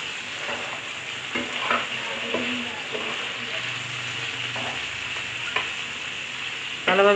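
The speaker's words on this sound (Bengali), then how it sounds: "ভালোভাবে মাছটা ভেজে নিচ্ছি" Koi fish frying in hot oil in a pan, a close, steady sizzle broken by scraping and clinking as the pieces are turned, with no one talking.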